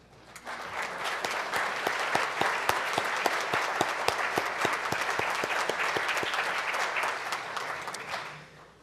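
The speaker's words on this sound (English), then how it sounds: "let us give you a round of applause for your service" Audience applause at a community meeting honoring education workers, sustained clapping from many people with sharp individual claps standing out, swelling in and tapering off at the end.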